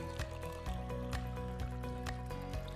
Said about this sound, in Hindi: कवर के इस छोटे हैच को खोलिए और इनपुट टैंक में पानी डालिए।